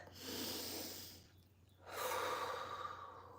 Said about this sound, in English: can we just take a minute and take a deep breath